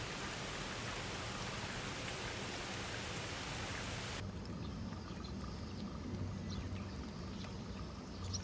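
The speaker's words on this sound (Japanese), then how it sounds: "すごい大雨。" Heavy rain pounds on a car during rainy car camping, a dense continuous roar of drops on the roof that stays loud throughout, its high hiss dropping off partway as the sound becomes more muffled.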